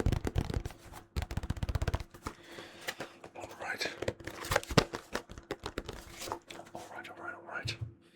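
Yu-Gi-Oh! trading cards are handled and shuffled up close, giving crisp flicks and a papery riffle. A whispering voice is heard over part of the handling.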